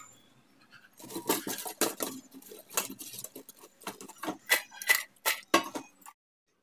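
Crisp crunching and crackling as fried fenugreek fritters are snapped apart, a rapid series of short bursts up close, ending in silence.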